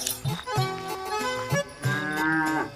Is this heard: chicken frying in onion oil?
no